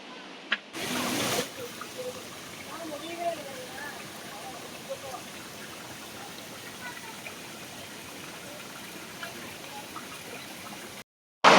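Water runs steadily over rocks at the Seetharkundu stream, a continuous broadband rush that sounds close and even. A sharp burst comes early and an abrupt cut near the end, with no speech over the flow.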